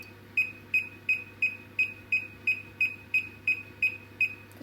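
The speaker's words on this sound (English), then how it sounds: "Put your timer on." Kitchen timer set for baking cheese scones beeps in a steady, evenly spaced series of about a dozen sharp, bright electronic tones, clear and close, with no talk over it.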